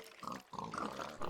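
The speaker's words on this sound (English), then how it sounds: "there, a pig died." A pig in Minecraft gives a short series of nasal oinks and grunts as it is killed, a few quick squeals close and fairly quiet.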